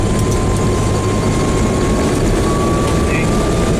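A 1966 Land Rover 109 engine roars steadily at full throttle, with loud, continuous low rumble and broadband road and wind noise throughout, close and sustained without pause.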